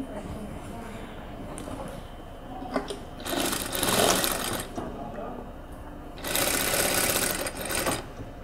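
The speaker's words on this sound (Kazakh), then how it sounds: "Қосып, 1 сантиметр тігіспен артқы бойын және алдыңғы бойын тігіп шығамыз." A sewing machine stitches the back and front pieces of a dress together with a 1 cm seam, whirring steadily and close up in several runs that speed up and ease off.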